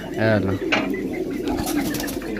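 Pigeons cooing close by, a few soft throaty coos over a murmur of background voices.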